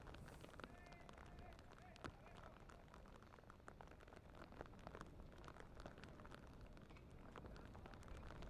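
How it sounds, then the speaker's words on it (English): Heavy rain pours steadily over a baseball field during a youth state tournament game, a dense constant hiss with scattered sharper drop hits, while a commentator speaks over it. "This is the heaviest the rain's been on late."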